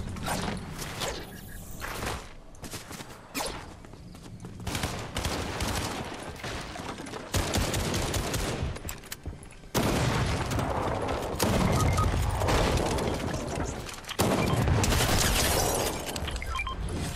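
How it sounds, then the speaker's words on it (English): Loud, dense gunfire and mechanical clatter fill a Fortnite match, with heavy continuous shooting and abrupt bursts throughout, no voices over it. "Oh, I'm hearing snipers."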